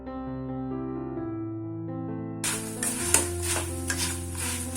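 Tonal music plays at first, then a loud crackling sizzle of cornflakes frying in hot oil takes over, with occasional stirring clinks.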